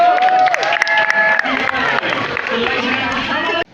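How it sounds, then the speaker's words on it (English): Crowd of visitors applauding and cheering at the Hogwarts castle model on the Harry Potter studio tour, a dense, steady wash of clapping and voices that cuts off abruptly near the end. "Round of applause."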